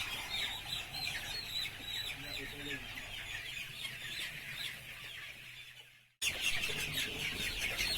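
A crowd of free-range village chickens clucks and squawks continuously during transfer to a new pen, a dense busy flock sound, cut off briefly near the end before resuming.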